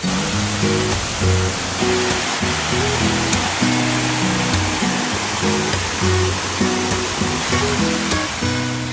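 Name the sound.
river water flowing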